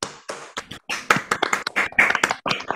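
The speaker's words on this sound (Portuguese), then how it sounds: "Queria que todo mundo abrisse aí os microfones para a gente fazer uma salva de palmas para a Sofia" Scattered claps over open microphones in an online celebration for a master's degree defense, uneven bursts from several participants arriving in choppy, separate waves.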